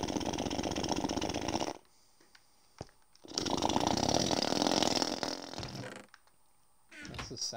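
A lawnmower engine in Minecraft drones loudly in two long bursts of buzzy, rasping running, separated by a near-silent gap with a couple of faint clicks, then a short return at the end.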